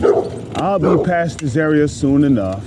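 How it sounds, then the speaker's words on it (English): A nearby dog barks and yelps repeatedly in short bursts, loud and close, while someone talks over it. "I'm sorry for the dog barking"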